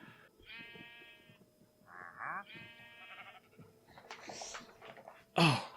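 Sheep bleating in the video game Minecraft on an icy build site: several short, wavering baa calls spread across a few seconds, close and fairly clear over faint background clicks, ending with a sharp louder noise burst.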